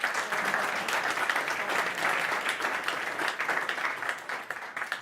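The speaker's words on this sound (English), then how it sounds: "Please give them also a warm applause." Warm audience applause at a retail conference as panelists come to the front, a dense, continuous roll of many hands clapping at a steady level without speech.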